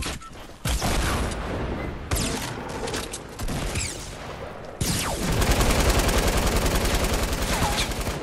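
Gunfire in Fortnite during a squad match: loud, dense bursts of rapid shots and impacts come in several waves across the stretch, close and continuous, with no clear talk over them.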